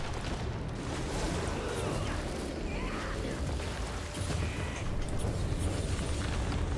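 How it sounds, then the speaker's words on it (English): A ghost cannon fires in the video game Guild Wars 2, producing a dense, continuous rumble of booming blasts that rolls on without a break for the whole stretch and stays loud throughout. "Fire the ghost cannon!"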